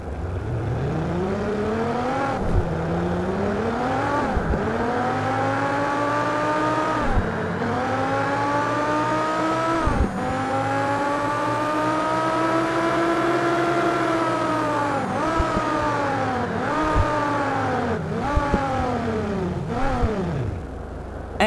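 A designed car engine effect sits in a full mix, revving up and down in repeated smooth sweeps with a steady whirring undertone, continuous and prominent throughout.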